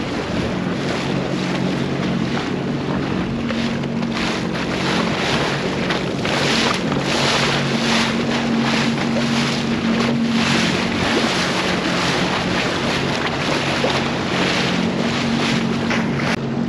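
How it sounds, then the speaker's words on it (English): Loud, constant wind blowing up a river buffets the microphone on a boat, over rushing, splashing water and a droning boat motor, unbroken throughout. "the wind's blowing right up the river"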